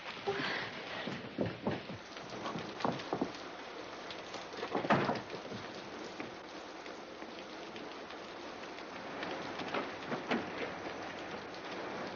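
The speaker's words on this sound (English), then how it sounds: "Now, it's starting to rain outside, so we've got to go now." Steady rain falls outside at night in a 1977 horror film scene, a soft continuous hiss broken by scattered louder drips and thumps.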